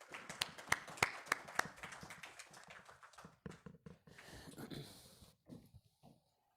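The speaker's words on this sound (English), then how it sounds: "Let's give a big round of applause for Dr." An audience at a stage talk on spine and pain management claps to welcome a speaker: a handful of sharp, separate claps that thin out within about two seconds, followed by murmuring room noise.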